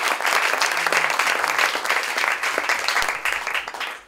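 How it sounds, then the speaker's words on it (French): An audience at a talk on cosmic origins breaks into full, dense applause that holds steady for several seconds before tapering slightly at the close. "On l'applaudit aussi"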